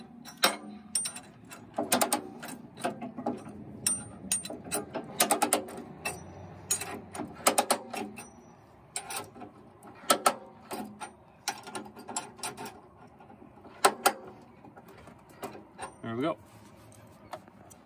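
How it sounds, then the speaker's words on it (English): A ratchet strap is cranked tight on a tow dolly holding a car's tire, giving repeated sharp clicking bursts of the pawl in uneven runs with pauses, close by and fairly loud, with some speech in between. "it's just a ratchet strap. You're gonna feed it through,"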